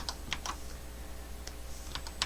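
Keys clatter on a computer keyboard while a ZBrush user presses Ctrl+N to clear the screen: a scattered run of light, close clicks over faint background hiss, with no voices.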